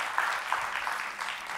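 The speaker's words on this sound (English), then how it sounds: "let's give all of our models a round of applause" An audience claps for the models at a career-services fashion show, a moderate, slightly uneven patter of hands with a few sharper accents, fairly close and unaccompanied by talk.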